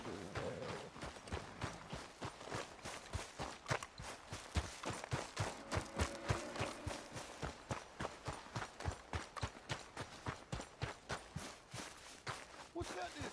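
In Red Dead Redemption 2, horse hooves clip-clop in a fast, even rhythm of sharp repeated strikes that continue throughout, close and clear. A voice talks over the hoofbeats at times.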